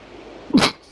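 One sharp sneeze bursts out in a quiet hall during a 10-ball world championship pool match, close and brief against a low background hum.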